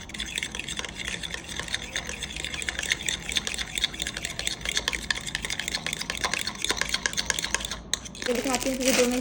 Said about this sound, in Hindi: अब इसको अच्छी तरह से मिक्स कर लेंगे